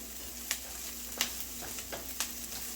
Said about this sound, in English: We've got that bacon crisped up. Got the onions going a little translucent.